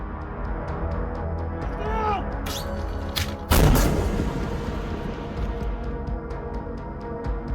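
In wartime combat footage a burning barn erupts in a powerful explosion, one sudden loud blast partway through that leaves a rumbling decay over a steady background of crackle and hum.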